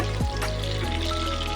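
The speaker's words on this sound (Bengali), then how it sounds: "ভালো করে প্রথমে ভেজে নিতে হবে" Chopped onions sizzle loudly in hot oil for a Bengali egg and potato curry, a dense close crackle holding steady from start to finish with no talk.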